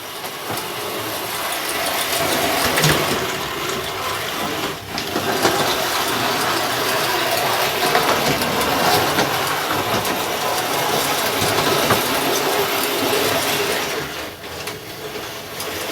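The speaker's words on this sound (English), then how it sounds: "Here we go with a little tank engine," A small model railway tank engine runs through a reversing loop on a layout, giving a steady whirring, clicking mechanical rumble of gears and wheels on track that continues at an even level, close by and with no talk.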